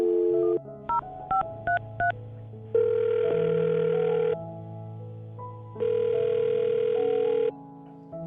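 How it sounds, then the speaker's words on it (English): A phone number is dialed: a rapid series of short DTMF keypad tones, then long steady ringback tones pulse twice, clear and alone with no talking. "I'm going to dial her phone number right now."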